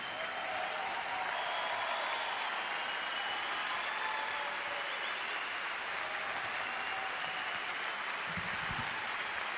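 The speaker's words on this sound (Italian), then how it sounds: "E adesso approfitterei dell'applauso per richiamare sul palco i protagonisti di questo meraviglioso spettacolo" Sustained applause from a concert audience at an outdoor show in a park, a dense, steady wash of clapping throughout, moderately distant with no break.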